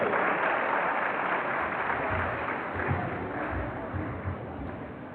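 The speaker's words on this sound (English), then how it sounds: "Please, let's give him a round of applause." An audience claps at a university pharmacy oath-taking and induction ceremony, a dense, steady wash of applause from many hands in a large room with faint voices underneath.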